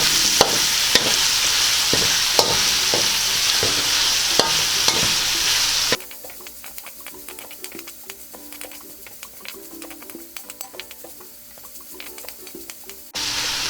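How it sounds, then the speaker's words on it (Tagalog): Tomatoes for Bicol Express sizzle loudly in a pan under stirring, with regular utensil taps against the pan, then the frying quiets abruptly to a softer crackle before rising again at the end; no talking. "Ngayon po ay pwede na nating ilagay ang ating kamatis. At hahaluin lang po natin siya."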